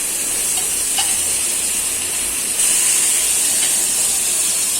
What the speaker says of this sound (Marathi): आता थोडं तेल टाकते थोडंसं टाकायचं आलं लसणाची पेस्ट